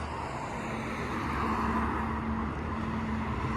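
A car slowly backs up while parallel parking on a driving test route in Mamak, with a soft, steady engine hum and a faint whine held under quiet outdoor traffic noise.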